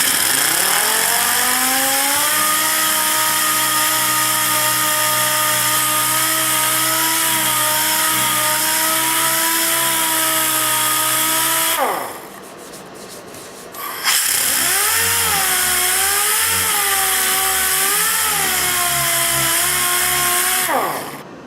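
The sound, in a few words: DA sander with 240 grit sandpaper sanding a snowplow deflector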